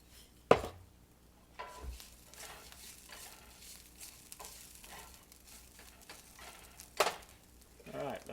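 A pan of food seasoned with salt and pepper fries with a faint, steady sizzle, broken by a few sharp clanks of utensils against the pan and brief quiet speech.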